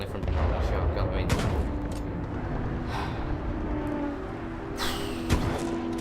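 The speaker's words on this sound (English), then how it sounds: "this weapon fires very differently from the normal shotgun" A shotgun variant fires in the video game Titanfall 2: a few loud, sharp blasts spaced across the clip over steady in-game combat noise.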